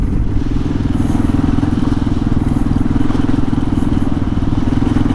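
2005 Kawasaki KLR 650 single-cylinder motorcycle under way, a loud, steady low thumping engine drone with wind rush, heard close from the rider's position.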